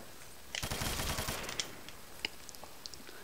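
Rapid, dense burst of automatic gunfire from a scorpion weapon in UGX Custom Zombies, a loud continuous stream for about a second, then scattered single shots trailing off.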